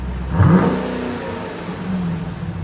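Dodge Durango SRT 392 HEMI V8 on its factory exhaust gives one quick throttle blip, a short rising rev that falls back to a low, fairly quiet idle, recorded close with no voices.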